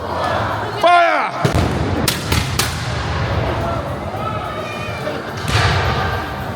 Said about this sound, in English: That is the firing.